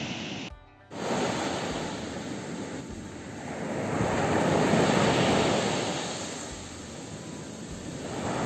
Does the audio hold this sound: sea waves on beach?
yes